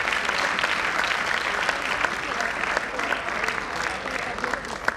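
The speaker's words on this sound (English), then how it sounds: "Give them a big round of applause," A concert audience gives performers a big round of applause, a sustained crackle of many hands clapping at moderate level, with some voices mixed into the crowd.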